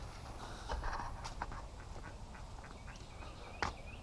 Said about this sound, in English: The ducks have just run out this direction